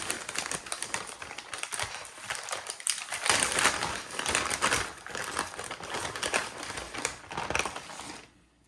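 Plastic model railway parts are pulled from small plastic bags inside a larger bag, giving dense, close crinkling and rustling with irregular bursts, fading out at the end; no voices.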